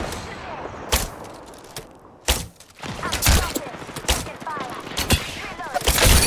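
Gunfire in the Pathfinder video game: sharp shots and bursts crack out repeatedly, some loud and close, others trailing off, over a busy combat bed with distant rattling fire throughout.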